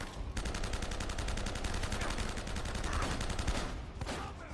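Gunfire in Uncharted: Drake's Fortune rattles in dense, continuous bursts, with rapid repeated shots layered over game battle noise and no pause through the stretch.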